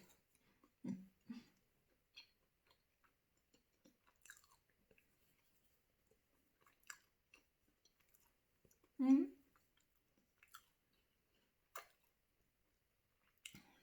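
Bread being chewed and eaten close up, with sparse soft bites, clicks and squishy mouth sounds scattered among long quiet gaps, plus a brief voice.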